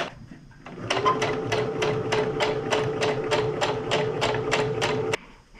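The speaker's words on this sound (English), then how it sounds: "Try to line up the edges and sew down." A sewing machine stitching an invisible zipper runs in one steady burst of about four seconds, its rapid even needle clatter close and prominent, starting and stopping abruptly.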